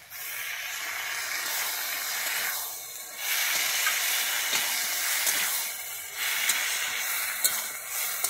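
Spices sautéed for a Bengali pui shaak (Malabar spinach) dish hiss and sizzle steadily in a pan after water from a rinsed bowl is poured in, a continuous close steamy crackle with a few brief surges and no talking.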